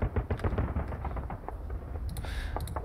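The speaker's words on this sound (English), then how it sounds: "Drop some artillery on that as well." Heavy artillery strikes land in the Panzer Campaigns Market Garden wargame, a series of deep booming impacts and rumbling blasts in close succession, followed by a few sharper cracks near the end.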